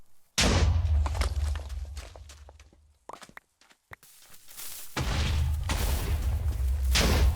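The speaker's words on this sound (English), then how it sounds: "Instead, let's play around with some explosions." Blocky explosions from Minecraft gunpowder, loud booming blasts in quick bursts, a dense roaring run, then a few scattered thuds and another sustained rumbling barrage, with no talking over them.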